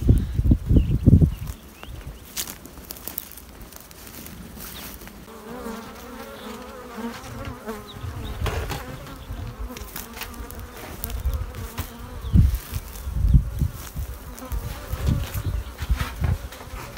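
Honeybees hum steadily at an open beehive during colony inspection, a dense continuous insect drone close to the microphone with occasional louder bumps and handling knocks.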